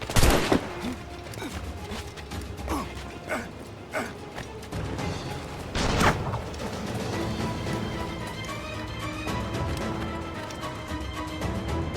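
Gunfire in the video game Assassin's Creed IV: Black Flag Freedom Cry: a rapid scatter of sharp shots and bursts cracks out over a busy, noisy battle scene, with a heavier volley near the middle.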